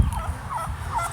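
A turkey gobbles close by on a homestead, a short rapid burst of rattling, warbling calls in quick succession, fairly clear against quiet surroundings.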